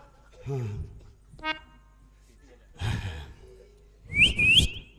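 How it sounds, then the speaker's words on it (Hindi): A man whistles in a rustic Hindi folk theatre performance, sharp rising whistles near the end, after scattered speech and sighs. "सीटियां बजाओ"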